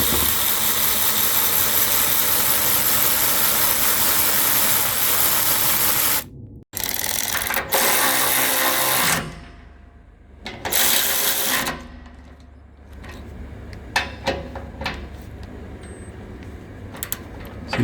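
Parkside 12V cordless ratchet running in short motorized bursts, a close whirring buzz that cuts off abruptly, followed by quieter intermittent clicks and handling noises.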